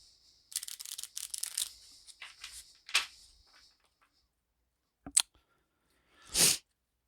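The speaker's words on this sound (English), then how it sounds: "So give our cards just a little bit of shuffle here." Playing cards shuffled during a tabletop football game session, a few quick riffling bursts with crisp papery texture followed by scattered short snaps and a final soft flutter, close and fairly quiet.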